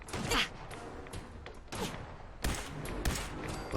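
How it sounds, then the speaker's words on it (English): Gunfire in the video game Fallout 4 during a fight with a shotgun-wielding enemy: several loud, booming shots in quick bursts, close and heavy. "I was just shooting where I saw the shotgun pellets coming from."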